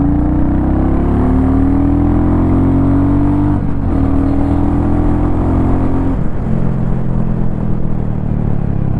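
A 2025 Royal Enfield Goan Classic 350 motorcycle accelerates hard through first and second gear, its loud, close engine rising in pitch, dropping briefly at each shift, then climbing again in a steady drone.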